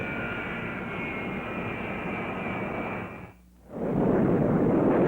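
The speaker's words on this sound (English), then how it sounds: "Flying a jet fighter is serious business." Steady, loud roar of a North American FJ-2 jet fighter engine with a high whine, dropping away briefly before surging back into a broader, louder rush.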